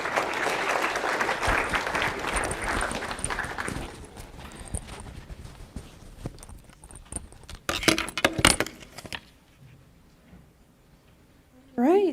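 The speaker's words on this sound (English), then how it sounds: "Let's give them all a round of applause once again." Audience applause after final pitches at a university startup competition, a fairly faint wash of clapping that thins out after a few seconds into scattered claps and handling noise, with a short louder burst near the end.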